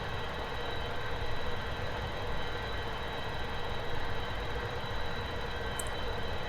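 Avro Vulcan jet engines in the X-Plane 11 flight simulator, a steady, loud, broadband roar and whine holding evenly on the ground before takeoff, with no talking.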